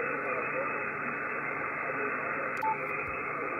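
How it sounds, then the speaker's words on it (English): Steady, band-limited static hiss from a Yaesu FTdx5000MP radio receiver with the VRF preselector off, constant and moderately loud, with a brief faint blip near the end. "VRF off. Noise floor pops up."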